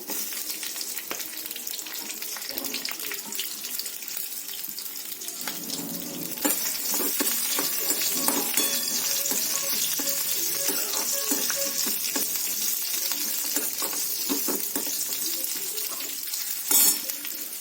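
Garlic cloves and green chillies fry in hot oil in a pan, a steady close sizzle that swells louder about a third of the way in, with occasional stirring scrapes and a brief louder burst near the end.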